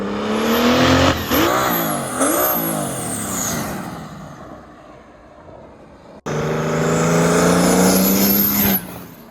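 A turbo diesel 240z car making flyby test runs, its engine revving loud and close with rising and falling pitch, a short cut-off near the middle before another loud, sustained pass.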